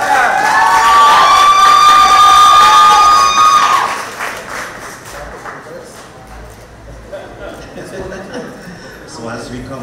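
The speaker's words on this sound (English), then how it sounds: "Share a round of applause, please." Loud audience applause and cheering at a junior calypso monarch finals in San Fernando fill the first few seconds over ringing musical tones, then fade to a quieter crowd murmur.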